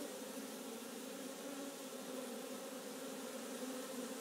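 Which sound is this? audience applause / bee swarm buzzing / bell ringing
bee swarm buzzing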